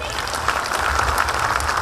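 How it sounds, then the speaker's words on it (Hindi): A crowd applauds at a building inauguration ceremony, the clapping loud and steady throughout, with voices mixed in. "बजाओ सभी जोर से ताली"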